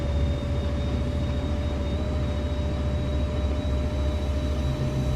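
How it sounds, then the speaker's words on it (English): Diesel locomotive in Train Sim World 4 on the Antelope Valley Line, a steady engine rumble with a sustained traction motor whine held at one pitch, continuous and fairly loud throughout with no talking. "listen to the separated sounds of the traction motors, which is the whine, and the diesel engine on this one"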